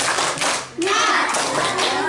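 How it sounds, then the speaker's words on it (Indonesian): Children at a Sunday school Easter event clap together in a spirit clap, loud close-up claps with a voice calling out partway through. "tepuk semangat dulu"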